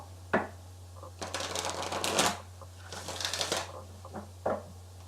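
Oracle cards being shuffled in several riffling bursts, separated by short pauses and a few sharp taps, over a steady low hum.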